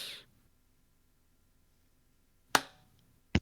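Two sharp hand claps ring out in a quiet room, a sudden crack followed by a second one about a second later, with a brief bright sound at the very start.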